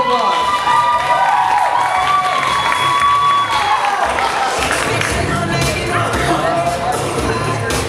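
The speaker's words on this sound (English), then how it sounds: "Another round of applause!" Crowd at a Filipino student association cultural night at UP cheers, shouts and claps for a dancer, a loud, steady mix of voices and applause running the whole stretch, with tonal music-like sounds woven through.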